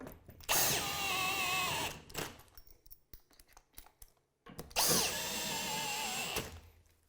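Power drill driving bolts into a TV wall mount, two close, loud bursts of motor whine and ratcheting, each lasting over a second, separated by quieter handling clicks and rattles.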